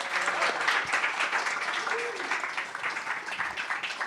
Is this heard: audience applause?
yes